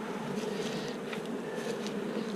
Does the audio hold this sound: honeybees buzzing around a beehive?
yes